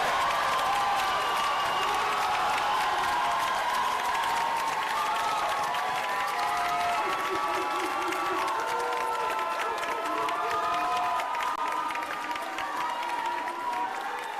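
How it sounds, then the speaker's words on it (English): At a college commencement in Atlanta, a large standing audience applauds and cheers the new graduates, sustained loud clapping with whoops and shouting voices rising above it throughout. "Let's give them a round of applause."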